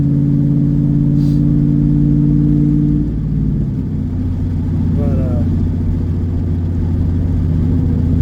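A straight-piped Chevrolet Camaro idles with a deep, loud, steady exhaust rumble that shifts pitch briefly partway through, heard up close outdoors on a street.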